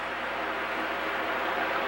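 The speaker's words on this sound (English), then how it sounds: "And that noise you hear is the air conditioning." Air conditioning runs indoors as a quiet, steady broadband hiss, unchanging and alone for a couple of seconds.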